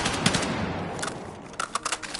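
M277 carbine fired in Battlefield 6, a steady stream of rapid shots at close range, with a few sharper clicking cracks toward the end.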